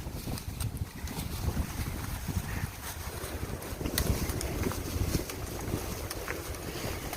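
Strong wind roars and buffets the microphone continuously on the Appalachian Trail in drizzle, a loud rushing gust noise with no talking.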